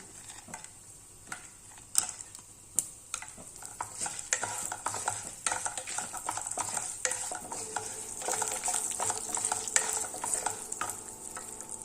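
Gram dal stirred and fried in a pan, a spoon scraping in irregular close strokes that grow busier over a soft, steady sizzle, with no voices.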